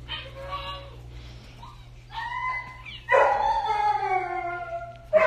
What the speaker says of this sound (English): That dog's pissed off. It's very vocal.